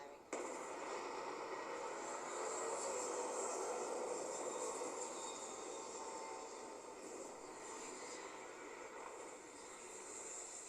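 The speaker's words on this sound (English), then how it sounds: "Landing struts primed. Retro's firing." Spaceship retro thrusters firing as the ship lands in Starfield, a steady, dense roar with a sharp onset that holds loud and unbroken for about ten seconds.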